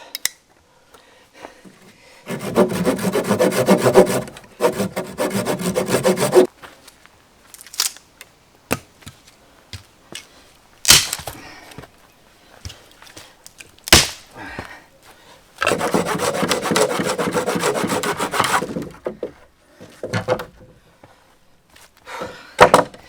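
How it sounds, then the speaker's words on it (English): At a backcountry camp a hand saw cuts firewood in two long bursts of steady rhythmic strokes, with scattered knocks, clunks and handling of wood in between. "Not a bad spot to process some firewood."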